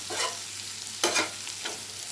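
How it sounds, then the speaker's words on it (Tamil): Bitter gourd slices being stirred in a frying pan, with three scraping strokes of a spatula over a steady low sizzle of oil. "நல்லா கிளறி விட்டுக்கலாம்"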